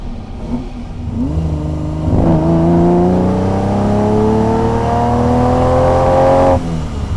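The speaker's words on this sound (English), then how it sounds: "we'll just get it on the straight now, and I'll pop her down in a second, and we can have a bit of that Ferrari magic" A rebuilt 1960s Ferrari V12 (330 GT 2+2 or 365 GT 2+2) being run in pulls hard down a straight: a loud, close engine note climbs, shifts up, then rises steadily in pitch before easing off at the end.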